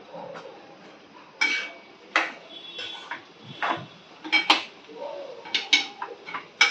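Masala is stirred in a metal cooking pot, with a spoon scraping and clinking against the pot in irregular bursts. The sounds are near and fairly crisp, with quiet pauses between strokes.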